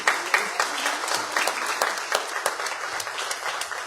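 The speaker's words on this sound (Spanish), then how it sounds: "Un aplauso para nosotros." Audience applause at a documentary screening event, a steady wash of many hands clapping throughout, fairly close and even in loudness.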